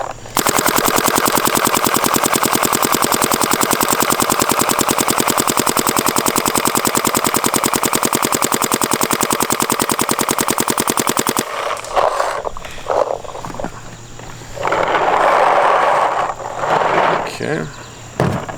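Planet Eclipse Geo R5 paintball marker fitted with a Twister Vortex bolt fires a long, rapid, steady stream of loud shots for about eleven seconds, then stops, followed by quieter handling noise and a voice.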